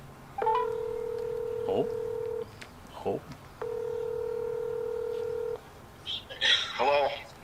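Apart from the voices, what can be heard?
dialing a phone number, DTMF tones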